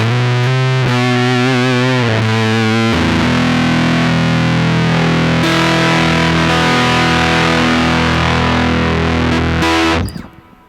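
Electric guitar played through a Fuzz Face pedal with the inductive buffer switched on: thick, saturated fuzz with sustained chords and ringing notes, loud and continuous for about ten seconds before it cuts off abruptly.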